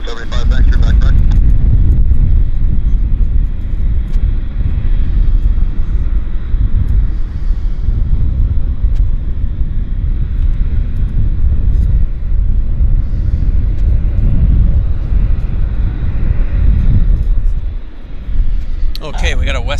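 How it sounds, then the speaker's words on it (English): A WestJet airliner lands at Vancouver Airport with a loud, steady, broad roar of jet engines and rumble that holds for most of the stretch, then drops away abruptly near the end. "Okay, we got a WestJet landing."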